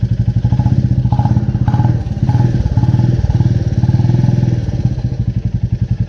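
Motorcycle engine idling and blipped during a sound check, a loud close steady thumping exhaust pulse with a couple of throttle swells, running alone without talk.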